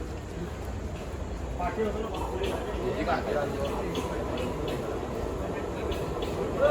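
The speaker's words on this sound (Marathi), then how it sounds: "बघा आमची ट्रेन आलेली आहे." A local train pulls into a crowded platform with a continuous heavy rumble and clatter of wheels and carriages, loud and close, while voices murmur throughout.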